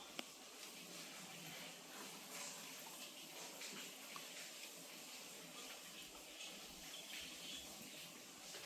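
Rainwater leaking through a roof and seeping down indoors makes a faint, steady, hissing trickle throughout, soft and distant with no voices.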